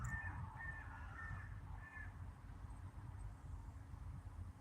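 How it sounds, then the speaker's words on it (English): Several crows caw in a ragged series during the first two seconds, heard outdoors at moderate distance over a steady low rumble of background noise, then the calls stop. "The Crow's followed me from the other night. He's got mates this time."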